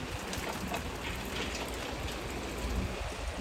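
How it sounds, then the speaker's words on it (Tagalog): Steady rain falls outdoors beside a parked car, a constant hiss of drops pattering on surfaces with no voices. "Umulan na naman."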